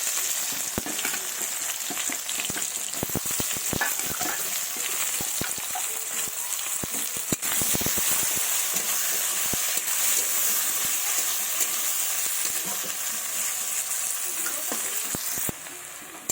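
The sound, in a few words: chopped onions frying in oil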